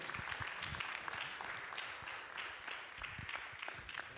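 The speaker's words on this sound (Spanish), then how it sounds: "démosle un fuerte aplauso y bendiciones" Church congregation at a Spanish-language service breaking into applause, a fairly quiet but sustained patter of many hands with a few sharper individual claps standing out, heard from a little distance.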